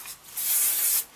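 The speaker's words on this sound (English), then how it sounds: "I'm going to go ahead and spray that just so it stays in place." A single short burst of hair spray hisses close by, lasting about half a second after a brief faint puff.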